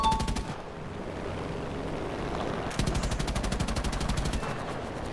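Rapid machine-gun bursts fire in the War Thunder video game, with steady rattling volleys running through the whole clip and a denser, louder stretch in the second half, heard alone with no talk.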